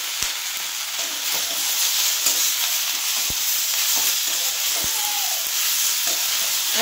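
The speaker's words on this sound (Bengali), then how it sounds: "এগুলো দিয়ে এবার আমি ভালো করে একটু কষিয়ে নেব" Spices, salt, turmeric and vegetables fry in a pan for an amudi fish curry, giving a loud, steady sizzle with occasional light utensil taps as the mixture is stirred.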